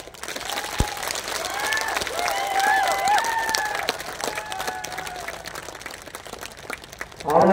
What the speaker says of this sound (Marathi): हात वर करून टाळ्या वाजवाव्या.